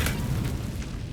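An Incendio fire spell bursts in Hogwarts Legacy, a dense, loud whooshing boom of flame that fills the brief moment without a break.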